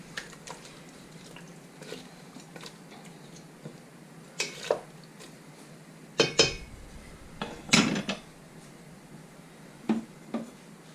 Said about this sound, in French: Et on remue.